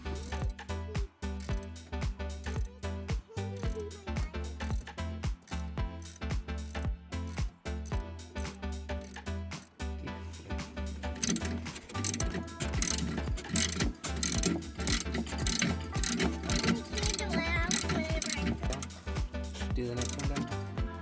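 A ratchet wrench clicks steadily as it turns bolts while a chicken plucker is assembled, making a dense run of quick metallic pawl clicks that carries on throughout and grows busier and louder in the second half.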